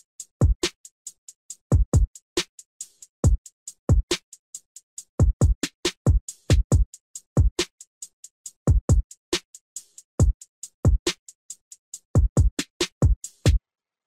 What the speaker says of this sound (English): In this beat, the drum section includes kick, two snares, two hi-hats, one shaker, and one open hat